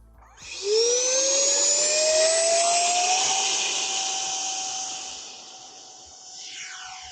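An E-Flite Habu SS 50 electric ducted fan RC jet on 3S power spools up to a loud, rising whine for its takeoff from grass, then fades gradually as it climbs away.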